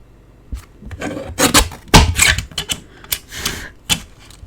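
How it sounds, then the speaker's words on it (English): Scissors snip scrap paper into narrow strips for junk journal page flaps, a close run of sharp, uneven cutting and rustling bursts with short pauses between. "I'm going to cut this down to 3/4 of an inch"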